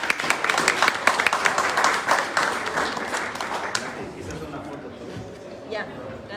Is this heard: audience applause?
yes